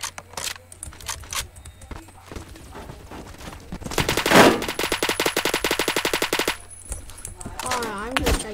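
Rapid automatic AK12 fire rattles out in a dense burst in Roblox Phantom Forces, a long stream of sharp cracks after scattered single shots and clicks, loud and close, with a voice talking at points.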